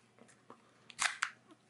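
A Joy-Con controller, a cheap replacement bought from Wish with a stiff, sticking release button, being pulled off a Nintendo Switch: a few soft plastic clicks, then a louder scraping slide and snap, close and brief.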